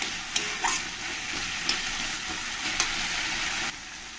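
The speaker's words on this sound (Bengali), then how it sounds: "টমেটোটা দিয়ে দেবো। দিয়ে ভালো করে 2-1 মিনিট ধরে আমি এরকম করে নাড়িয়ে নেব।" Tomato stirred into a pan of frying katla fish head and banana flower, a steady close sizzle with a few soft scraping clicks of the spoon, no voices.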